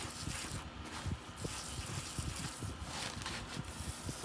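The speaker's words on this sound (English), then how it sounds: "So I'm gonna go through and really soak this down." Water splashes and gushes over dry bedding in a worm bin for African nightcrawler cocoons, an uneven, close pouring with rustling and dripping bursts.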